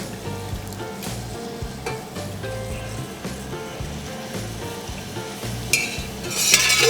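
Turkey pot pie filling cooking in a pot over medium heat, a steady close sizzle and bubbling with stirring scrapes throughout, a brighter hiss swelling near the end, no talking.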